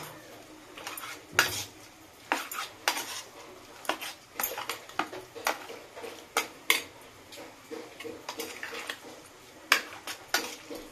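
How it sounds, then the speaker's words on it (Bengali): Mixing 300 g of prawns with spices in a bowl for steamed mustard prawns, with irregular close clinks and scrapes of utensils against the dish. "এর মধ্যে দিয়ে দেব সেই চিংড়ি মাছগুলো। আমি এখানে 300 গ্রাম চিংড়ি মাছ নিয়েছি। সব ভালো করে মাখিয়ে নেব।"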